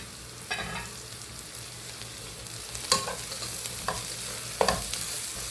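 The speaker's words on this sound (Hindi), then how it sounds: "इसे 1-2 मिनट तक फ्राई करेंगे। कैप्सिकम की अच्छी से खुशबू आ जाना चाहिए।" Chopped capsicum and green chili frying in a pan for a puff pastry filling, a soft steady sizzle broken by several clattering stirs of a spoon against the pan.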